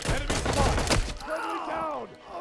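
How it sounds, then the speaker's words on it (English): A suppressed shotgun fires in the Transience video game, producing a rapid cluster of muffled shots in the first second, followed by a ringing tail and quieter game noise. "I know I have a silent shotgun, but like, it's still a shotgun."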